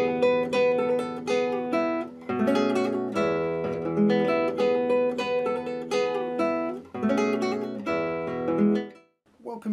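Classical guitar playing four bars of Villa-Lobos Prelude 1, a Brazilian folk-style piece, with ringing plucked notes and sustained chords in a flowing phrase, played alone and clearly up close.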